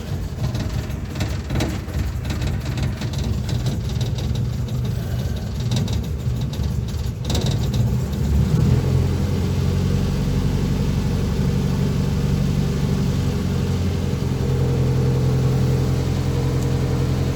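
A Land Rover Series 2a long-wheelbase engine runs on choke, a steady, loud, close idle. Partway through it settles into a smoother, deeper drone that carries on without a break.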